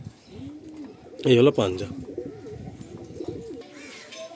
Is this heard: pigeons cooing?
yes